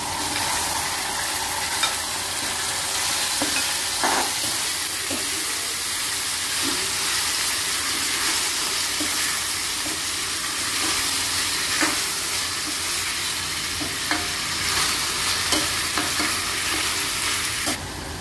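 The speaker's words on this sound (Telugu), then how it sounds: "ముందుగా కట్ చేసి ఉంచుకున్న టమాటా వేస్తున్నాను." Chopped tomatoes tipped into hot oil sizzle and fry steadily in a pan for Andhra egg pulusu, a continuous close hiss broken by occasional stirring scrapes and clinks, with no voices.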